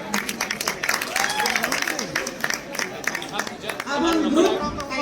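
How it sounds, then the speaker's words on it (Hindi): Audience clapping at a closing ceremony, a brief burst of applause mixed with crowd chatter while someone speaks over it on a microphone. "तालियां बजाते रहिए।"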